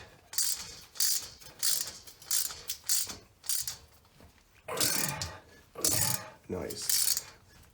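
Screws driven into a steel bracket on a bowing basement foundation wall, heard as a series of short ratcheting, clicking driver bursts with brief pauses between them, fairly close and moderately loud.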